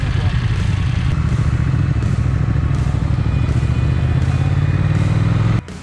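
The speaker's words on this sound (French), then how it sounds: "Cette fois, j'emprunte la Triumph Speed Twin de Julien." Steady engine drone and wind rush from a Triumph Speed Twin motorcycle ridden carefully on narrow country roads, loud and continuous, cutting off abruptly near the end.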